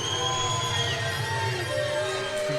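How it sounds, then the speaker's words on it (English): Sustained crowd noise from spectators at a semi-pro AAL2 football game between the Pittsburgh Outlaws and Ohio Legends, a steady wash of jeering voices with drawn-out tones, fairly loud and continuous throughout. "Getting the boos in from the crowd."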